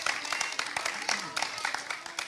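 Applause from an audience at a summit for people affected by the federal justice system, a dense, steady patter of many hands clapping for about two seconds with a voice briefly over it.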